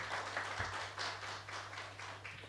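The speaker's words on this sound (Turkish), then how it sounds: "Orada da bir tanesi alkışlıyor da." Sparse applause from an audience at the opening talk of a symposium, a steady patter of claps that runs through the whole moment over a low electrical hum.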